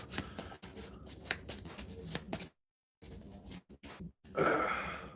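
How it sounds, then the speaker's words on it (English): A deck of game cards is shuffled close by in quick riffling bursts, broken by a short silence and ending with a louder rustle. "I'm going to shuffle this up"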